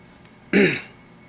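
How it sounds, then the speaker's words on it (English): A single short throat clearing, close and fairly loud, lasting about a quarter second against a quiet background. "Clear my throat"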